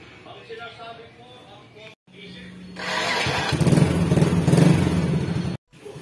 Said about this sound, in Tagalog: So karon kani sa akong motor na gamiton.